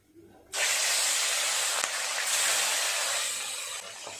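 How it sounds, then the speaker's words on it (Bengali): Pieces of katla (rohu-type carp) fish sizzling loudly in hot oil in a frying pan, a sharp steady hiss that bursts in suddenly and holds close and strong, with a faint crackle and no talking. "একইভাবে সমস্ত মাছগুলো ভেজে নেব।"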